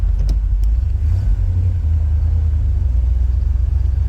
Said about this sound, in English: Reverse lockout does work, so we'll go ahead and fire up. And now we'll run her through the gears.